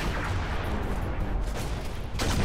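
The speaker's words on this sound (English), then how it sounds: "It just exploded." Dense, rumbling low-frequency blasts and gunfire-like noise from a Halo Reach battle, loud and continuous with a fresh burst near the end.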